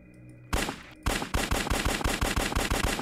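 Rapid automatic gunfire in the video game Stay Out of the Farm opens with a single loud shot, then settles into a fast, evenly spaced stream of close, punchy shots that continues without pause.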